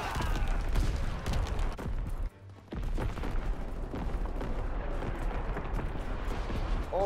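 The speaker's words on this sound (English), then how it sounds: "Incoming enemy artillery! Get to cover!" Incoming enemy artillery in World War II multiplayer video gameplay: a dense barrage of booms and crackling gunfire, with a brief dip into near quiet before the blasts resume.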